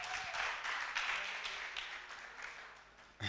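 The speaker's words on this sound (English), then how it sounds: "let's clap for Design Revival" Audience applause after a pitch at a Hult Prize event, a broad steady wash of clapping that stays fairly even before tapering slightly, with no talk over it.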